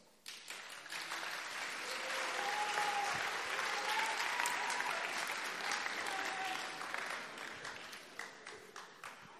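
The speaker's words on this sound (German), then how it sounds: "Wie klingt so ein Applaus?" An audience at a Science Charlottenburg event at TU Berlin gives sustained applause: a soft, somewhat distant wash of many hands clapping that builds, holds evenly, then thins toward the end, with faint voices calling out through it.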